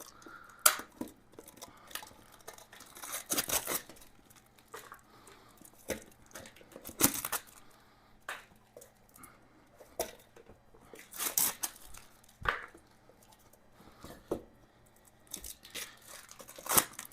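Material is cut off new motorcycle tires for a Venom Ghost chopper, heard as scattered snips, tearing and crinkling at close range, with irregular bursts separated by quiet gaps.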